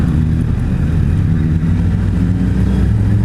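A 2016 Suzuki Hayabusa motorcycle pulls hard in first gear, a loud, steady low engine roar mixed with heavy wind buffeting, continuous and close with no voices.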